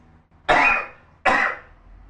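A woman gives two sharp, loud coughs close by, one after the other with a short pause between.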